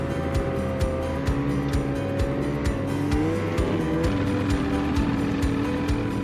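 A snowmobile tows a Turbo Polaris out along a freshly made snowy trail, its engine droning steadily with rhythmic clanking and rattling from the towed machine, loud and close throughout.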